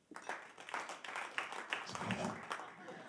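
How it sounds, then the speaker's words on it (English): A comedy show audience claps in scattered bursts that build and swell across the moment, with talk heard over the clapping. "Clap your hands if you got kids."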